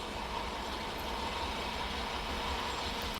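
The Dibrugarh Rajdhani Express train rumbles steadily nearby as it approaches, heard from aboard another train on an Indian rail line, a continuous broad roar of wheels and running gear with no talking.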